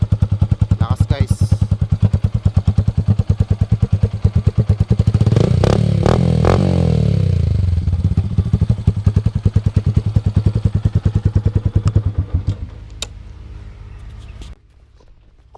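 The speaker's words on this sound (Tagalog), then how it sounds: "Tsaka mas bassy yung sound nito kumpara sa natry ko na isang exhaust." A Yamaha SZ motorcycle with an aftermarket exhaust idles with a deep, bassy pulsing beat close by, revs up briefly in the middle, then settles back to a steady idle before cutting out.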